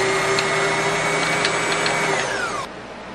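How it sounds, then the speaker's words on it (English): A Brother 2600i sewing machine winding a bobbin with a steady high motor whir and hum, close and loud, the pitch dropping slightly before the motor cuts out near the end. "Then you put your foot pedal on and you wind it."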